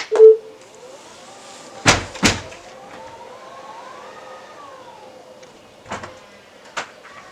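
Tesla Model X doors close automatically in turn, each ending in a sharp thud, while a soft motor whir rises and falls in the background.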